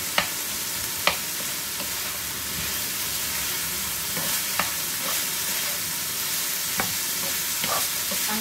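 Gising gising, a dish of chopped vegetables, being sautéed and stirred in a pan: a continuous close sizzle broken by a few sharp clinks of the utensil against the pan, with no talking.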